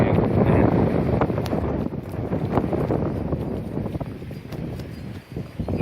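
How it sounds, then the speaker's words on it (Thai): Strong wind gusts across the microphone beside the fast-flowing Mekong River at Nong Khai, a loud, continuous rumbling buffet with no talking. "โขงก็แรงลมก็แรง"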